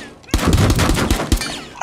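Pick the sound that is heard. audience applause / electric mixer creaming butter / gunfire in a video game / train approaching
gunfire in a video game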